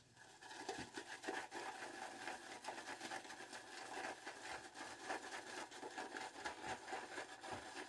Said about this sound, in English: let's start working up the lather